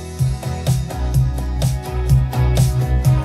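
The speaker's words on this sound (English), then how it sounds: "The chorus, apart from the vocals," Instrumental chorus of a pop song, vocals removed, with a steady rhythmic beat, bass pulses and layered synth chords playing loud and full throughout.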